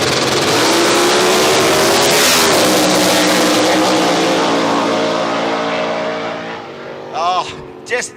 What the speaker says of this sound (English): can hear Grumsy sing, just screaming down there